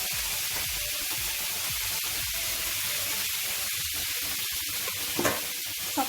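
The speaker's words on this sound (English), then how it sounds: "I'm gonna fry each side for about 5 minutes, and it should be done" Marinated chicken pieces fry in a pan with a steady, dense sizzle and crackle that holds from start to finish, with a few louder pops near the end and no talking.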